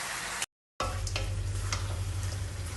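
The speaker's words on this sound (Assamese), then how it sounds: "এইখিনি এতিয়া ভাল কৰি ভুনি ল'ব লাগিব।" Jaluk pepper powder with cumin and coriander powder sizzles in hot oil for a local chicken curry, a steady close fry broken by a brief silent gap, with faint stirring clicks.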